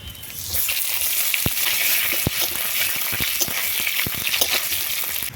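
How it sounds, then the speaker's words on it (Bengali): Chopped onions frying in hot oil with bay leaf and whole dried chilies in a village kitchen, a loud steady sizzle broken by sharp clinks and scrapes of stirring, with no voices. "এবারে দিয়ে দিচ্ছি পেঁয়াজ কুচি"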